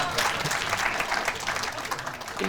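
A short burst of audience applause at a leadership talk with a retail CEO, with close, dense clapping that stays fairly even for a couple of seconds.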